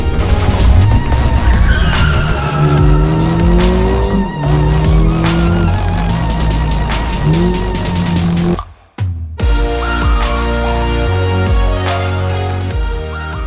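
A car drives hard with a loud, continuous engine roar, rising revs and squealing tires, played back through a Sony STR-AN1000 receiver; the sound drops out briefly near the end, then resumes.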